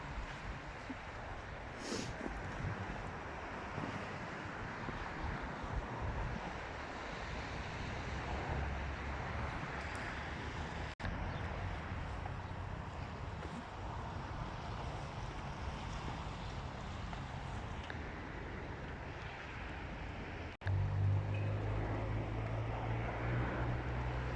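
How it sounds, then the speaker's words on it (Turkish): Steady, broad wind roar blowing continuously, with gusty rumble that grows heavier and closer near the end. "Bir sıkıntı var ama rüzgar da çıktı."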